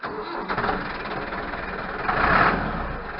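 A farm tractor's engine cold starts, cranking briefly before catching into a rough, steady idle that swells louder toward the end. No one speaks over it.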